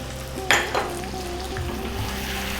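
Spoonfuls of chili powder, turmeric, coriander and cumin stirred into a frying chicken curry: a sharp scrape of the spoon against the pan over a continuous close sizzle, then steady frying.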